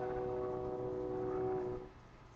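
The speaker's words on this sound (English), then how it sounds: "There's my train." A train rumbles past at a distance with a sustained low drone and faint tonal hum, heard at night during backyard stargazing and fading toward the end; no one talks.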